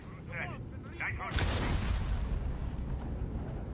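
A C4 charge explodes in a tactical shooter match with a sudden loud blast midway through, followed by a rumbling, crackling decay. A voice speaks briefly before the blast.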